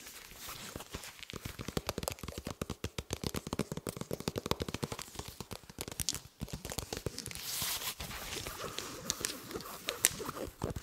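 Soft body armor is tapped and scratched up close in quick, irregular bursts of crisp, textured fabric taps, with brief pauses and a rustling stretch near the middle.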